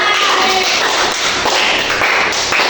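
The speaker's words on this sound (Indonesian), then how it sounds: "Iya, patah tepuk tangan." Kindergarten children clap their hands together at a school session on healthy snacks, a loud, dense burst of overlapping claps and taps filling the room.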